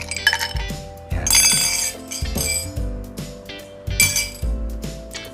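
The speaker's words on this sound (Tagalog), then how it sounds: "Lalagyan na ho natin to ng yelo." Ice cubes clink and rattle into a glass for iced black coffee, several bright bursts of clattering with a sustained tonal ring underneath, close and fairly loud, no talking.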